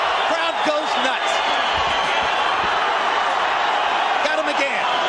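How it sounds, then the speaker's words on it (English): A boxing arena crowd roars in a loud, sustained wash of cheering, with a commentator's voice over it and sharp thuds of punches. "Crowd goes nuts."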